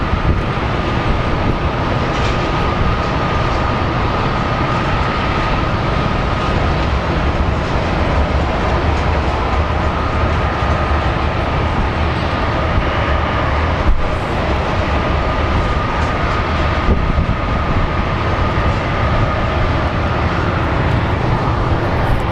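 A United Airlines airliner at Phoenix Sky Harbor Airport produces a steady, loud jet engine roar that holds constant throughout with no voices.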